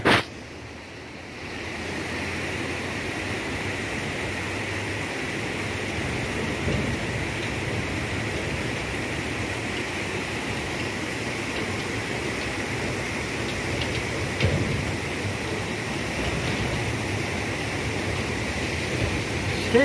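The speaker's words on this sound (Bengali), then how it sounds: "ব্যারেজে জল পড়া যে প্রাকৃতিক আওয়াজটা, শুধু শুনেই যায় আওয়াজটা।" Water pours steadily over the Deocha barrage on the Dwarakeswar river, a continuous broad rushing roar like surf that holds at an even level throughout with no voices.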